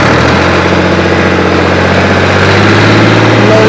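A 1999 Fiat 480 tractor engine runs close and loud, a steady low diesel drone with a rhythmic throb that holds even for the whole stretch, no voices over it.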